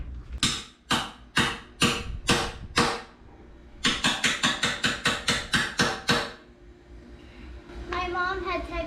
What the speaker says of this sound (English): I'm gonna get my little hammer.